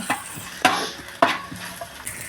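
Ginger and green chilli paste sautéing in a pan, soft sizzling broken by several distinct scraping stirs of a spatula at roughly regular intervals, close and fairly loud.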